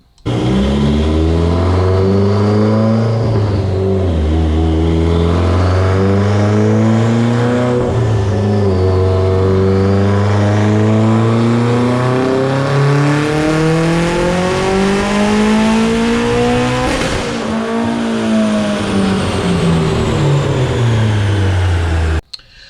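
A Mitsubishi Evo X with a Garrett GTX3582 turbo, Kelford cams and 1200 cc injectors pulls hard on a dyno, its loud engine note climbing steadily through the revs over about twenty seconds, with brief dips at the shifts.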